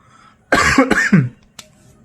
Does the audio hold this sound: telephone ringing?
no